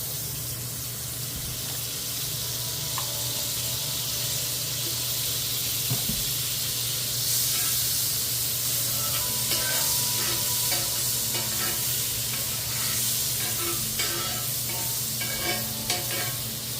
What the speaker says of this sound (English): We'll cover the grill with a bunch more butter and get that frying.